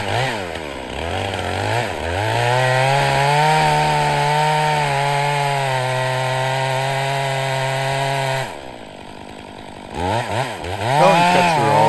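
A chainsaw cuts a felling notch into a dead pine tree, loud and close, its engine steady under load for about eight seconds before dropping off briefly and then revving again near the end.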